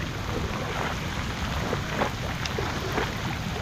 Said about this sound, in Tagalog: Lumakas na naman yung ulan mga hunter.